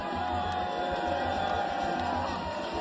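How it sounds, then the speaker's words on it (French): A stadium crowd at the Africa Cup of Nations in Morocco roars and cheers for a DR Congo supporter, a dense, steady wash of distant voices filling the stands with a rhythmic low thumping beneath. "sous les applaudissements de la foule"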